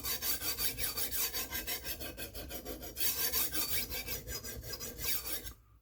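A knife blade is drawn repeatedly across a stone on a KME guided sharpener, giving close, rhythmic rasping strokes about four to five per second, ending abruptly.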